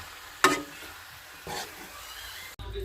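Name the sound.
stirring tuna fish pieces with paste in a pan on low flame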